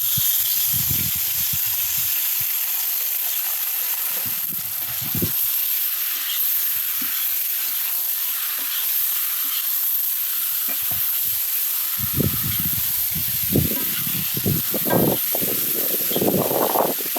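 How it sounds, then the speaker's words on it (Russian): Meat fries in a kazan over an open fire: a constant bright sizzle runs throughout, joined by bursts of low rumbling and crackle from the flames and stirring. "Это мясо обжариваем до золотистой корочки"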